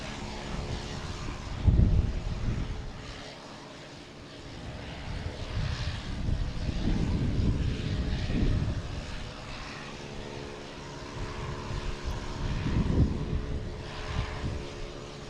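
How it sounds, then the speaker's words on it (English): Delta Embraer E175 jet from Chicago arriving at Boston Logan, a steady distant engine rumble and whine that swells and fades in several broad surges, with wind buffeting the microphone. "We have a Delta coming in from Chicago, an E175, flight"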